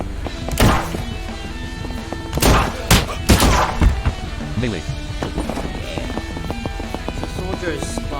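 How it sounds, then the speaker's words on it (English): In a video game, a Ruger Wrangler pistol fires a few loud, sharp shots in quick succession amid a busy background of game sounds. "I like the sound of that pistol."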